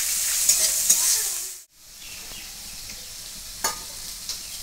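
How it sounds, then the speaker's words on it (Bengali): Chopped onions with a little salt frying in a pan, a steady close sizzle with a brief break partway through and a few light stirring knocks. "পেঁয়াজটা ভাজা হয়ে গেছে।"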